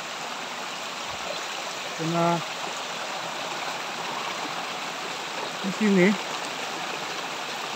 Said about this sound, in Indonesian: Kita teruskan perjalanan kita melusuri anak-anak sungai ini.